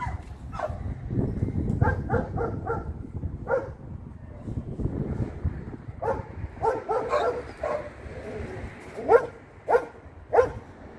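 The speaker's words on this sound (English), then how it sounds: "Cage up the dogs." Dogs barking and yelping during a police detention outdoors, a scatter of sharp barks over several seconds with a cluster of louder ones near the end, heard over low rumbling background noise.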